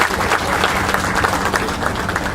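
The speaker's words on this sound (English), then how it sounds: "I think that man deserves a big round of applause." A live audience bursts into sustained applause at a launch event, dense steady clapping filling the room throughout without letting up.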